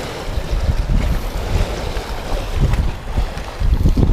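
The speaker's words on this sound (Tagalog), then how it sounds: "Tuwing pupunta ko rito malakas ang hangin ah." Strong coastal wind buffets the microphone at a fishing spot by the water, a continuous loud roaring rumble with gusty surges and no voices.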